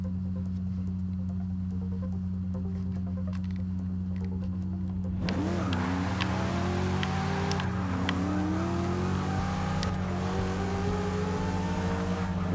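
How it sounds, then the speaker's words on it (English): A drift car on a tuning track idles with a steady drone, then its engine revs up sharply and rises and falls in repeated loud accelerating sweeps, close and without talk. "if the car can drift on this track, it's good for any track"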